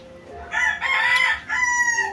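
A racing gamecock crows close by in one long, loud cock-a-doodle-doo, its strained call rising and breaking into a second burst, with no talk over it.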